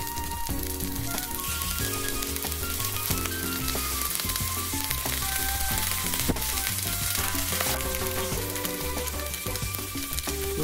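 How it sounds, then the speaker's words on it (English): Oxtail chunks sear in hot oil in a pan, giving a steady, close sizzle and crackle with occasional pops and faint stirring clatter throughout, with no voices. "add some oil to a pan and sear the oxtail chunks on all sides"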